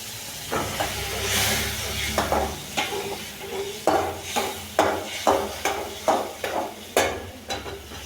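Tamarind water bubbles and simmers in a pot on the stove, a steady hiss with repeated soft spoon stirs and clinks against the pot wall, close and moderately loud.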